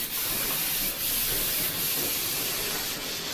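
An Iwata, Creos, Harder & Steenbock or similar airbrush sprays water through its nozzle during cleaning, giving a steady, close, continuous hiss with slight fluctuations and no talking.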